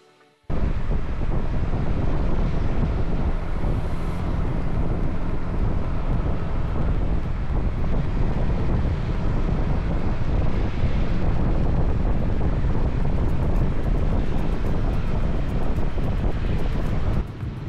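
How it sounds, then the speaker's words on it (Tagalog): Waves pounding against coral rocks at a beach in Sual, Pangasinan, a steady, loud roar heavily mixed with gusting wind buffeting the microphone, with no pauses. "may mga corals na nakikita dito sa may gilid na hinahampas ng mga alon"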